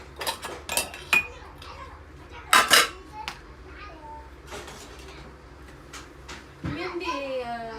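Dishes and pans being washed in a home kitchen give off scattered clinks and clanks, with a few sharper knocks. A voice and other speech come in and out over the clatter.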